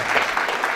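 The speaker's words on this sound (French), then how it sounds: "Nous méritons un applaudissement et un battement." A short, dense burst of applause from a crowd, steady and fairly loud throughout.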